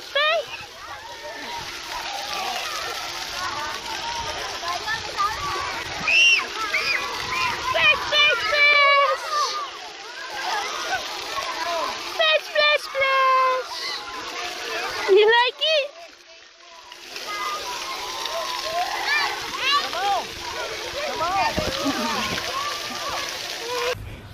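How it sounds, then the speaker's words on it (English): A young child splashes their feet in water outdoors on a hot day, producing repeated uneven splashes and sloshes close by, with an adult talking to the child throughout. "Splash, splash. You splash your feet."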